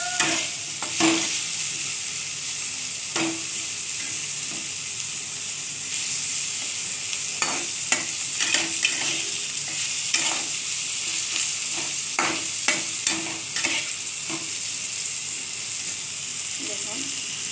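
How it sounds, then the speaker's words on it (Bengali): Bitter gourd fries in a pan while being stirred, a loud steady sizzle with repeated scraping and tapping of the spatula at irregular intervals, close up. "নেড়ে নিচ্ছি।"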